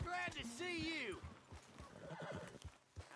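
Horse in the video game Red Dead Redemption 2 gives a loud whinny, followed by hoof clops and snorting, with a voice talking over the end.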